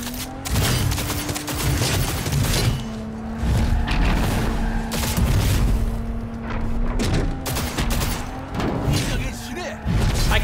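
Gunfire in the video game Cyberpunk 2077 comes as loud, repeated bursts with thuds and booms, continuous and close over steady game sound and music.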